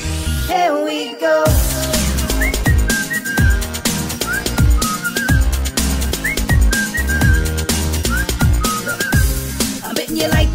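A melodic whistled tune rides over a steady pop beat with punchy bass and drums, the whistle phrases recurring throughout.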